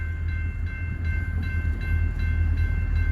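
A CSX train roars past nearby, a steady, loud rumble of engine and rolling cars with no gaps or talk.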